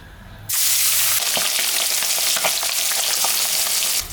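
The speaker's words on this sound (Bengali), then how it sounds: "মাছে তো লবণ মাখানো হয়ে গেল, এখন আমি ভাজব" Salted, turmeric-coated puti fish drop into hot mustard oil with a sudden loud burst of sizzling, then a dense crackling fry continues close by with sharp spattering pops; no talking.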